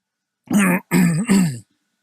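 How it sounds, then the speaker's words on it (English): A man clears his throat close to the microphone in three quick, gruff bursts, each a rough rasping hum, followed by silence. "Just going to clear my throat there and take a quick drink of water."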